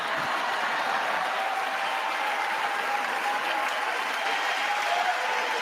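Sustained applause fills a State of the Union address chamber, a dense, steady wash of clapping with some cheering that holds at an even loudness throughout.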